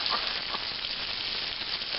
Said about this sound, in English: why am I cooking this sausage in a nice deep Dutch oven?